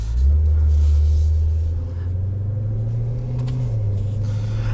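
A 2020 Maserati Levante GTS SUV pulls away with a loud, deep, close engine rumble that eases slightly and then holds a steady drone as it drives off.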